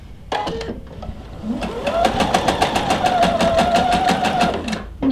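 A sewing machine with a gathering foot stitches fabric, its needle pulsing in a fast, steady rhythm after a brief start-up, loud and close with a rising motor whine, no voices.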